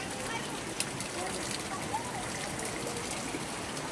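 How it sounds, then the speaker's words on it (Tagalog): Heavy rain pours in a steady, even roar of broadband hiss that stays constant for the whole stretch, with no breaks. "Lakas ang ulan."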